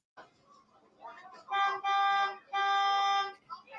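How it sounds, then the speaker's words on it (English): A bus horn blares in two long, loud blasts of about a second each, with a short gap between them, over faint background murmur. "That's a bus driver honking his horn, trying to get them off of her."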